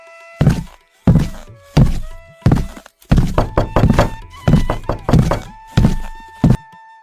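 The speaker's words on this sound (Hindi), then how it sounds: "इतने में बाहर दरवाजा खटखटाने की आवाज आई।" Loud knocking on a wooden door in a Hindi story, a series of heavy thuds in uneven groups, some single and some in rapid clusters, close and prominent with no talk.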